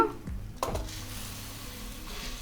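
North Karnataka style churmuri: puffed rice is tipped into hot oil tempering in a pan, with a soft thud followed by a steady close sizzle and rustling stirring.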